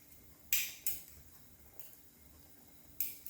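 A spoon mixing and scooping miso paste into a pot of homemade Japanese miso soup, giving a few sharp metallic clinks against the pot at irregular intervals over a quiet background.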